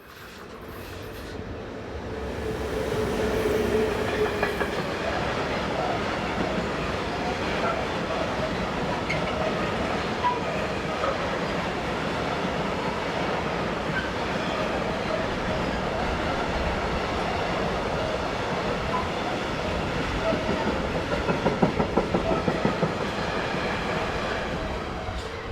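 A freight train of hoppers hauled by locomotive 1116198 rolls down a steep gradient, a steady loud rumble of wagons with rhythmic wheel clatter that swells slightly near the end.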